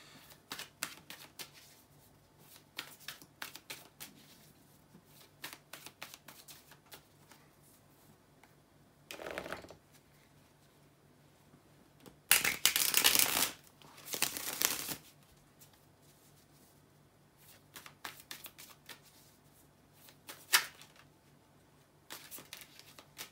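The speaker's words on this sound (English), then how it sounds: "Let's shuffle the cards once again" Tarot cards being shuffled give quiet scattered riffles and taps, with a loud flurry of rapid card snapping midway and a few more brief bursts after.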